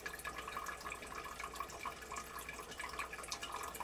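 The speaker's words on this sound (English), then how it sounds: "we can see that we've got water now coming out of both of those spouts." Water trickles and splashes steadily from the spouts of a water distiller, faint and close, a continuous light pouring with small drips throughout.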